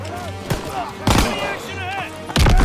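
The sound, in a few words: gunfire in the video game Call of Duty WW2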